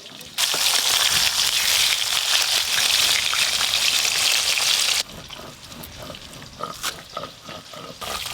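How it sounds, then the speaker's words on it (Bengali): Large tilapia fish pieces fry in hot oil in a pan with a loud, dense sizzle for about five seconds, then the frying continues at a softer crackle with scattered pops and stirring clinks. "মাছগুলো খুব ভালো করে ভাজা ভাজা হয়ে গেছে।"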